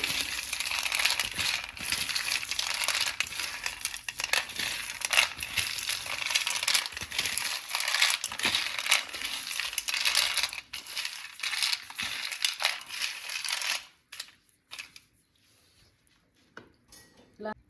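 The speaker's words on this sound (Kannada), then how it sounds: "ಕಡಲೆ ಬೀಜ ಹಿಂಗೆ ಸಿಪ್ಪೆ ಓಪನ್ ಆಗಬೇಕೀಗ, ಹಿಂಗೆ ಫುಲ್ ಸಿಪ್ಪೆ ಬಿಡ್ಸ್ಕೊಬೇಕು" Peanuts are shelled and peeled by hand, a dense run of dry crackling, crinkling and rattling close by that keeps going for several seconds and then thins to a few scattered clicks before falling quiet.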